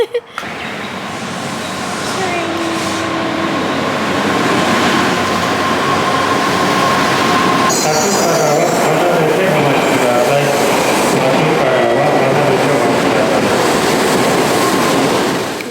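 A Japanese Shinkansen bullet train's steady rushing roar builds within the first seconds and holds loud and close throughout, with a faint whine and muffled voices underneath.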